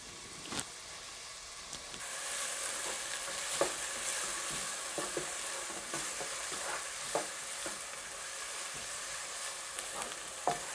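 Crushed garlic and onions fry in a pan for a Kenyan matoke dish, a steady soft sizzle with scattered crackles and occasional stirring scrapes, heard close and fairly quiet with no talking.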